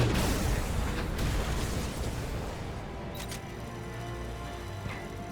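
A loud airstrike explosion in the video game Crysis 2 bursts at once, then rolls into a long rumbling decay with scattered crackles and pops.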